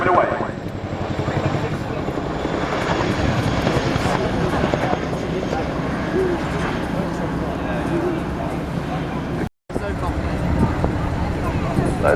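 A Chinook twin-rotor helicopter makes a display pass at an air show: a loud, continuous, broadband rotor and engine roar with a steady throbbing texture. An announcer's voice runs over it, and a brief dropout appears near the end.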